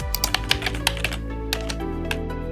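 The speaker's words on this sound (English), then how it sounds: "First, I'll type in my prompt or image description." Someone types a prompt on a computer keyboard, a close run of quick, crisp key clicks at an uneven rhythm over a faint steady background hum, no talking.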